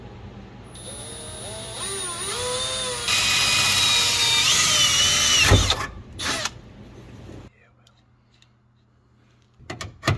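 A power drill drilling holes for nitrous plumbing on a Mazda RX-7 with a 13B engine whines at rising and falling pitch, then runs at a steady high whir before cutting off, followed by quiet and a few clicks.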